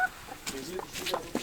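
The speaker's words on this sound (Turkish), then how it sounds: "Bunlar organik tavuk." Free-range village chickens kept for eggs cluck in short, scattered bursts at close range over a quiet rural background, with a voice faintly present.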